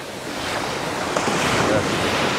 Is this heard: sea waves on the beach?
yes